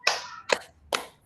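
A group claps in a rhythmic clap game during a school workshop session, three sharp, loud claps spaced roughly half a second apart.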